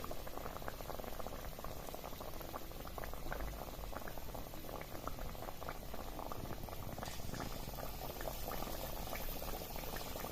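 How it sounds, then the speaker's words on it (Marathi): Steady, dense bubbling crackle of potato fritters frying in hot oil, continuous and close throughout with no talking. "तेल चांगलं तापलेलं होतं त्यामुळे आपली जी भजी शिजण्याची किंवा तळण्याची जी प्रोसेस आहे ती लगेच चालू झाली आहे"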